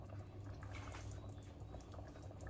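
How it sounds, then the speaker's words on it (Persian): Brewed saffron is poured into a Persian stew in a home kitchen, giving a soft, steady liquid trickle over a low, continuous simmering bubble. "یه مقدار بهش زعفرون دم کرده اضافه میکنم"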